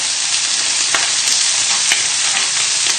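Lamb frying in a pan on the hob gives a loud, continuous sizzle with occasional stirring scrapes.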